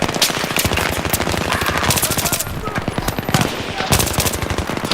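Loud, rapid automatic gunfire from a Battlefield 3 fight, with fast rhythmic machine-gun bursts that barely pause and a few brief gaps between volleys.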